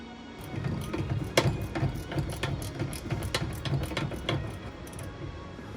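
A ratchet with a deep socket works on an engine bolt of a 1972 Volkswagen Bus, giving close, repeated clicking pawl strokes in an uneven rhythm with faint metallic knocks throughout.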